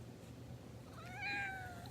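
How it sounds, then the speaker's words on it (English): A house cat gives a single drawn-out meow near the end, clear but fairly soft against a low steady room hum, with no talk. "you can see my cat over there"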